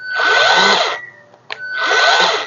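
A battery-operated handheld mixing tool with rotating tines stirs potting media, whirring loudly in two close motor bursts separated by a short pause with a small click.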